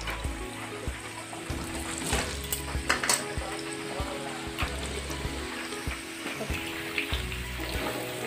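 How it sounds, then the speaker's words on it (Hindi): Papaya pieces frying in hot oil give a steady, fairly faint sizzle that holds throughout over a low background hum. "हमारा तेल भी गर्म हो चुका है। हम पपीते को पहले फ्राई करेंगे।"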